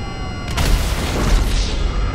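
Gunfire in an online video game: a sudden loud boom followed by a sustained rumbling blast that lingers for over a second, close and full, with no talk over it.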